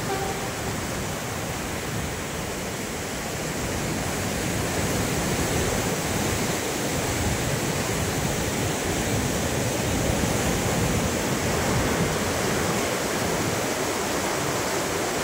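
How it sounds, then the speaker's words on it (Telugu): Musi river floodwater in Hyderabad surging at speed toward the Chadarghat bridge, a loud, steady broadband roar of rushing water that continues unbroken and fills the whole stretch, with no voices. "ఈ నీళ్లు మనం చూసేది చాదర్ఘాట్ బ్రిడ్జ్ వైపు పోతున్న ఈ యొక్క నీళ్ళ వరద"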